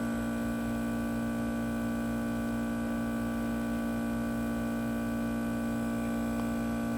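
A Bentlon 65170 Silver Perfect podiatry drill runs with its water jet on near its 40,000 RPM top speed, giving a steady, even electric whine and hum that holds unchanged from start to finish.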